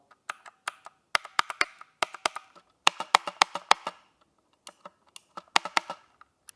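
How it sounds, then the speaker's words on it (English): Keys on a 60% 68-key mechanical keyboard with blue switches are pressed until they bottom out, producing loud, crisp clacks in quick bursts of several strokes with brief pauses between, close-up and with no talking. "And these are the keys bottoming out."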